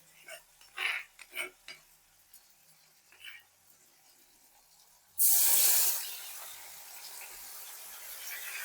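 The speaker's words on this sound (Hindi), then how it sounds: "तेल गर्म हो चुका है। पहले मैं ऐड करी हूँ इसमें कड़ी पत्ता" Curry leaves hit hot oil for a bathua gatte curry, a loud, sudden sizzle that bursts in and then settles into a steady, close crackling hiss. Before it, only faint speech and small kitchen sounds are heard.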